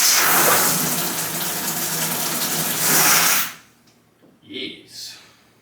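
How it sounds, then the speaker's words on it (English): Water gushes loudly and steadily from a bath feed pipe being tested during a bathroom renovation, a broad rushing flow that stops abruptly, followed by a couple of soft knocks and clatters. "We're definitely getting water to it."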